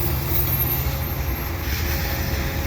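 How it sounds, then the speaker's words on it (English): Steady heavy rumble of a CP eastbound commuter train rolling past nearby, continuous low-frequency roar with faint metallic ringing above, no voices. "It's a CP train."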